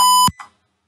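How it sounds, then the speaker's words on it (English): A buzzer on an Arduino keypad locker sounds one loud, steady electronic beep. It stops abruptly and is followed by a short click and a brief faint blip, then silence. "as you can hear, buzzer start buzzing, and red LED glows, and it means that the door is closed"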